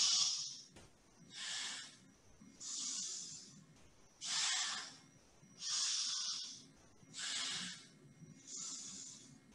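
Seven slow, even breaths in a yoga breathing exercise, alternating right and left nostrils, each a soft airy hiss lasting about a second with brief pauses between, close and fairly quiet with no talking.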